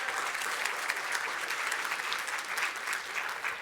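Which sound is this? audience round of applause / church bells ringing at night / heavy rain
audience round of applause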